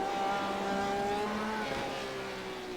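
Porsche GT race car engine from a sim racing game at Silverstone, a steady droning whine with shifting tonal pitch, held loud throughout with no talk.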